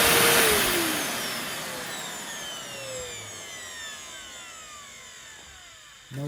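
A vintage orange Bissell Powerforce 6585-6 upright vacuum cleaner's motor whirs steadily and close. Its whine slowly winds down in pitch over several seconds, with a short knock at the end.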